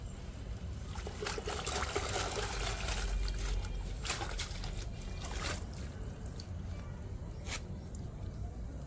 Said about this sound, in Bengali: এখন একটু ভালো করে ধুয়ে নেওয়া হচ্ছে, আবার কাটার সময় তখন কেটে আবার ধুয়ে নেওয়া হবে